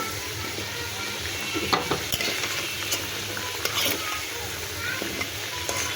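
Fried potatoes lifted one by one from sizzling oil in a hot karahi, a steady frying hiss with scattered metal scrapes and light clinks of a spatula against the pan.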